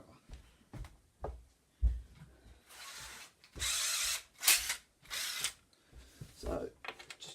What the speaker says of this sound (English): Let's go and get my impact driver.